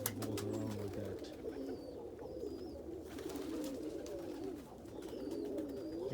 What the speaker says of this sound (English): Ashford roller cockbird.